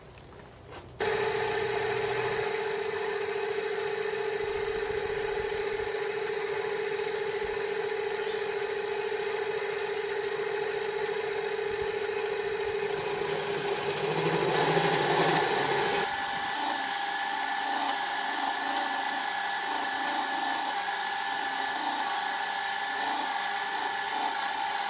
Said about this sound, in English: I need to bore this out by 14mm wide, 5mm deep